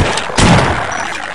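A shotgun blast fires in a video game, a single loud broadband burst partway through over a busy, noisy game background.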